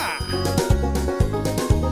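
Telephone ring jingle on a Philippine radio news program, a bright repeating ding pattern of about four quick chimes over a backing tone.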